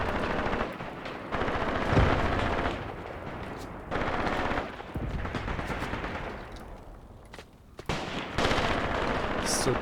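An immobilized machine gun keeps firing in the war game Graviteam Tactics, with dense, rapid bursts of automatic gunfire in several long volleys and short pauses, and scattered single shots and cracks around them.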